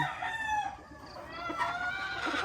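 A Sweater gamefowl broodcock crows in a brood pen, one drawn-out, strained crow close by, with clucking fowl around it and no talk.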